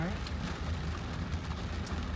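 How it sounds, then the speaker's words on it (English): Steady rain patters on a car close by, a dense, even hiss with occasional louder drops, heard from inside the car. "It's raining here in South Florida"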